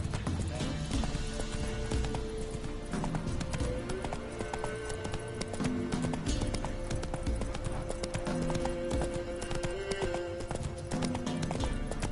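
Roach the horse gallops in The Witcher 3, a steady clip-clop of hooves running continuously under game music and ambient sound, close and even throughout.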